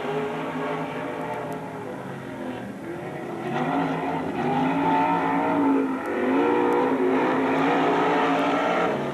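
Dirt track race cars at Magic City Speedway in Billings, Montana power out of a corner, engines droning and revving together as a dense, continuous roar that swells slightly midway, heard from trackside with no talking.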